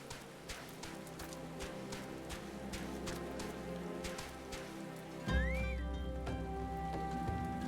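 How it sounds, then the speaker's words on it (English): Steady rain in Final Fantasy XIV patters on surfaces with scattered drip ticks, joined near the end by a low drone and a rising tonal chime. "'Cause it's raining."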